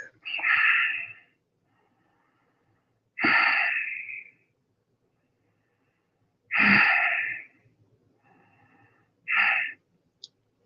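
Long exhalations after a held breath during a guided yoga breathing exercise, four loud breathy whooshes spaced a few seconds apart with quiet gaps between them, close to the microphone.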